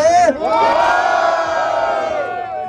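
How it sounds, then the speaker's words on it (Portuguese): A large crowd at a freestyle rap battle cheers and shouts loudly together in one sustained roar that swells and then fades after a couple of seconds. "barulho pra quem gostou das rimas de Dante"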